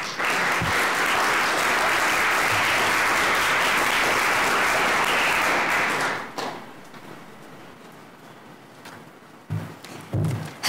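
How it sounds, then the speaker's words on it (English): A conference audience at a National Iranian American Council event applauds Nazila Fathi in a loud, sustained burst of clapping that cuts off abruptly, leaving a quieter room with scattered thumps and shuffling. "Please give her a warm round of applause"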